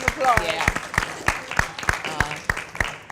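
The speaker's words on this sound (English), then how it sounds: "Yeah, that's a round of applause." Clapping at a math conference comes as a sparse, evenly spaced run of sharp claps, about three per second, with a voice talking quietly underneath.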